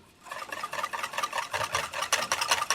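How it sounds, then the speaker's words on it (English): A metal whisk scrapes chocolate custard base from the corners of a bowl, giving a steady run of close, rhythmic scraping and stirring strokes that grow slightly stronger toward the end. "I'm pushing my whisk end into the corner"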